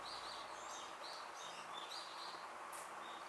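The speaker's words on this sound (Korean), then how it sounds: "지금도 밖에서 수없이 새가 우는데" Birds chirping outdoors near a temple hermitage, several repeated high tweets over a steady faint hiss of background noise, distant and soft with no talking.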